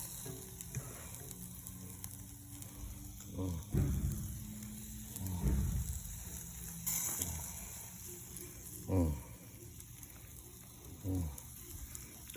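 Quiet sizzling from grilled ribs as homemade sauce is brushed on, with soft intermittent bursts and scraping over a steady hiss, while people talk.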